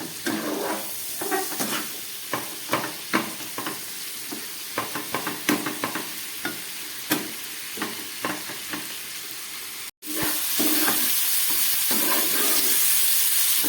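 A stone-ground spice paste with ginger and peppercorns fries in a pan for a fish curry, a close, continuous sizzle with repeated stirring scrapes, then a brief cut and a louder, denser hiss.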